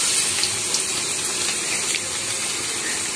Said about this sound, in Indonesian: airnya terlihat hampir mendidih tunggu sebentar lagi mendidih untuk masak kangkungnya